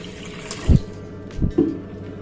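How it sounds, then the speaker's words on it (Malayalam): Water poured into a Kerala fish curry with kudampuli, heard as a few short splashy pours over a low background hum, close and brief, with no talking. "1 കപ്പ് വെള്ളം കൂടി ചേർത്ത് കൊടുക്കുന്നുണ്ട്"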